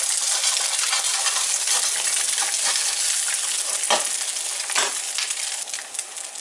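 Food seasoned with oregano cooks in a pan, giving a dense, steady hiss of sizzling that fills the whole stretch, with a couple of brief clinks of a utensil and no talking.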